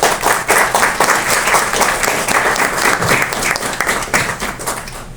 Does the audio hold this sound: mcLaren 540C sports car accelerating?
no